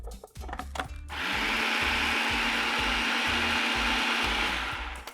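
A food processor pulses cheese with a splash of dry white wine: after a few brief knocks, the motor whirs loudly and steadily for about four seconds with a rhythmic chopping churn, close and alone.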